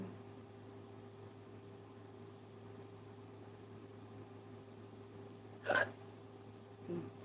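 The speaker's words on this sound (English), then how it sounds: "Please do not get the hiccups now." A single short hiccup pops out near the end over a steady low electrical hum, followed by a fainter catch of breath.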